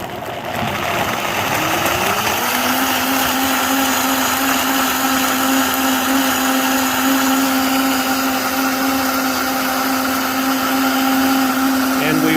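A blender blends soaked almonds with water for homemade almond milk, ramping up from a start into a loud, steady high-speed whir that holds close and constant for the rest of the stretch.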